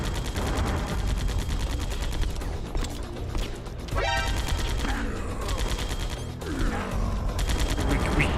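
Gunfire crackles in a tense Metal Gear Solid: The Twin Snakes firefight on the GameCube, with constant loud shots and impacts over dense game noise and no speech.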